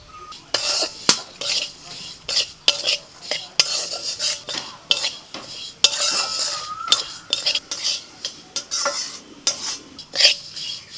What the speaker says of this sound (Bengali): তিলটা 2 মিনিট নাড়াচাড়া করে নিয়ে